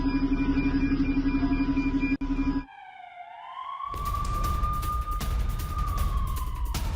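An ambulance siren sounds in Beersheba after an attack, first as a rapid pulsing electronic wail under a steady hum, then cutting out before a long rising and sustained wail returns over loud, noisy street rumble.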